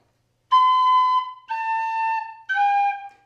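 Pennywhistle playing three sustained, clean notes, each begun with a crisp tongued attack, loud and close in an otherwise silent room.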